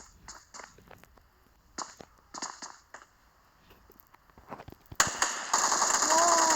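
Rapid bursts of video game gunfire crackle in quick volleys, followed by a louder sustained blast of in-game firing and effects, with a voice talking intermittently among the shots.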